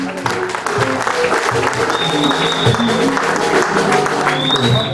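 Loud applause from an audience at a church restoration conference in Rennes, sustained and dense throughout, with shouts and voices mixed into the clapping.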